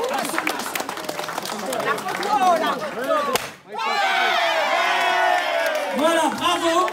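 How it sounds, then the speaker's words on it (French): Applause and cheering from a crowd at a Miss and Mister pageant in a care home for the elderly. It is loud and continuous, with voices mixed into the clapping, a brief drop in the middle, then steady clapping again. "Sur les applaudissements, s'il vous plaît."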